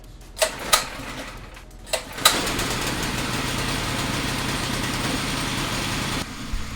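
Car engine cranks in a few short bursts, then catches and runs at a steady, loud idle for several seconds before a change near the end.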